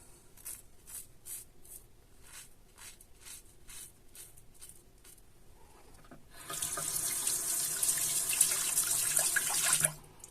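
Tap water runs into a bathroom sink clogged with shaved hair, a steady gushing stream that swells loud after several softer scraping strokes, then cuts off.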